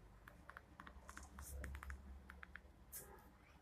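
Quiet typing on a Jio Phone keypad, a quick series of light taps in small bursts with short pauses between them, heard faintly and close up.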